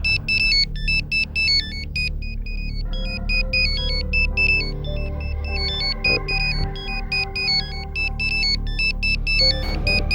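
A phone ringtone rings repeatedly in a steady beeping melodic pattern, loud and continuous over a low background hum during a scene in a Telugu film.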